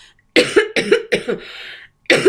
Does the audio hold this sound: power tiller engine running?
no